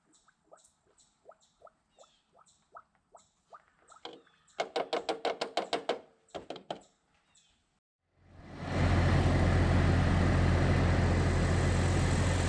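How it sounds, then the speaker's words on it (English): A Jeep engine starts after a cooling-system flush and settles into a loud, steady run, following a series of rhythmic clicks and taps from working on it. "So the Jeep is running now."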